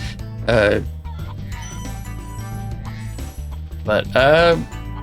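Chickens in the video game Spyro the Dragon squawk in two loud bursts, one early and one near the end, over steady game music and background sound.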